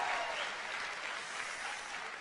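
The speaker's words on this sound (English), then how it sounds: "please give me a big loud round of applause" An audience at a lecture claps in a dense, steady burst of applause that fills the whole moment evenly, fairly quiet overall, with no voices over it.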